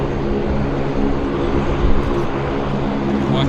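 A Summit ATR 72 turboprop airliner at Vancouver Airport gives a loud, steady propeller drone with a throbbing low hum that swells slightly midway, heard close and without speech.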